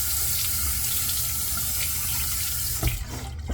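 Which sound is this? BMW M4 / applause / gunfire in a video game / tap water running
tap water running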